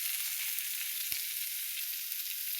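Mutton masala sizzles steadily in a hot pan as it is stirred, a constant bright hiss with one brief soft knock partway through.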